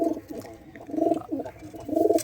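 Young black-spotted (kalanka) pigeon squab cooing close by in a rooftop loft, a few soft throaty coos in short repeated bursts with low background noise.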